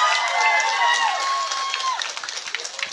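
Supporters at a Parti Warisan campaign rally in Putatan applaud and cheer loudly, dense clapping mixed with whistles and shouts that gradually thins into scattered claps.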